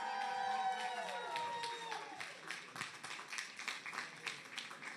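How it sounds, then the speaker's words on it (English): A crowd at a Nintendo live event breaks into applause and scattered cheering, fading from a fuller burst into lighter, irregular clapping over a few seconds, with voices mixed in. "let's give him a round of applause"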